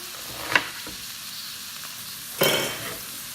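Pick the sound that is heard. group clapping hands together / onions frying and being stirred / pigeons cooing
onions frying and being stirred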